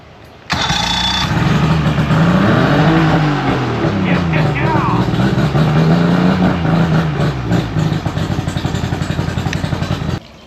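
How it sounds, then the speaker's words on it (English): A Mercury 50 HP outboard motor starts abruptly and runs loud and close, its revs rising and falling before settling into a rapid, chattering idle, then it cuts off. "if you can hear me over the motor"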